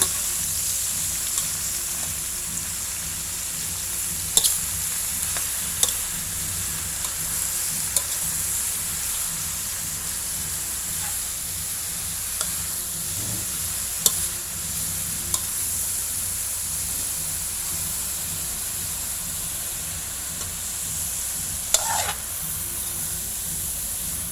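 Mixed mushrooms stir-frying in oil in a pan, a steady hiss of sizzling throughout with occasional soft scrapes and clicks of a stirring utensil, close and continuous.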